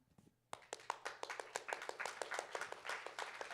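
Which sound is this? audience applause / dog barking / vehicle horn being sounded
audience applause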